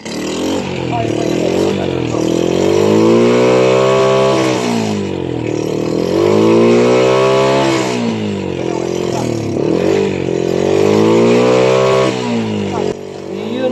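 A carbureted Honda Wave 100 motorcycle that had been hard to start and misfiring runs loud and close, its engine revving up and down in repeated swells over roughly a dozen seconds.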